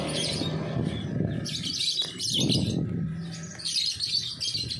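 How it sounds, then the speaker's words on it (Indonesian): Several small songbirds chirp and tweet in bursts inside a bird shop over a low background rumble, close by and busy, with no voices. "bermacam burung"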